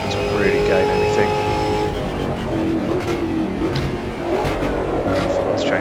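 A stock car engine in the Automobilista 2 racing game at Mount Panorama roars steadily with rising and falling pitch through gear changes, loud and continuous, while someone talks over it.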